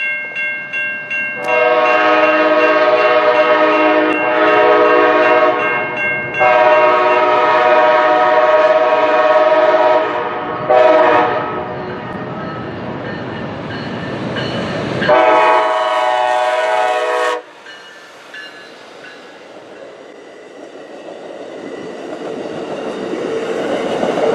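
A southbound Amtrak passenger train led by a Charger locomotive roars past at night with a loud, sustained horn sounding in several long blasts, rail clatter throughout, then the rumble fades into quieter track noise.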